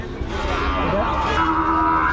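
Young calves low at a morning cattle market in Rajshahi, a loud, close moo rising and sustained over crowd murmur.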